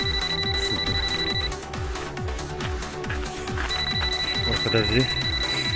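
A phone rings with a repeating electronic tone during an outdoor run beside a river, the ringing steady and fairly prominent under a man's speech and breathing, pausing briefly midway before resuming.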